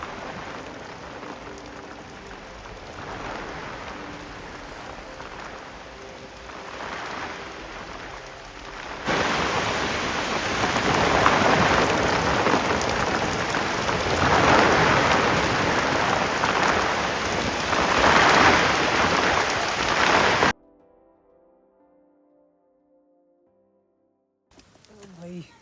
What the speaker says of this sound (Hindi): और फिर जोरदार बारिश शुरू।